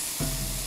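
Very hot chicken stock poured onto sizzling Camargue rice for risotto, a sudden loud hiss bursting in after a brief quieter moment and holding steady.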